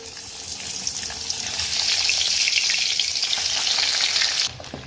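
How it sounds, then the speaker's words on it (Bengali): Duck eggs, seasoned with salt, turmeric and Kashmiri chilli powder, drop into hot mustard oil and fry with a loud, steady sizzle that swells after the first second and cuts off sharply near the end, with no one talking. "তো ডিমগুলো ছেড়ে দিই।"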